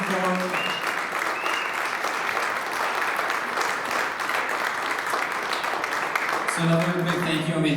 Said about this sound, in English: Another big round of applause for Jim Ford.